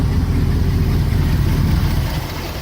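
A 1974 Chevrolet C65 truck with a 366 engine idles close by, a dense, steady low rumble with even loudness throughout, easing off slightly at the end, with no talking.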